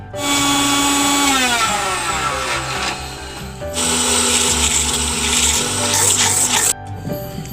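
A blender whirs loudly as it mixes a papaya and chocolate shake with three spoons of sugar, its motor pitch shifting and briefly cutting out before resuming, then stopping near the end.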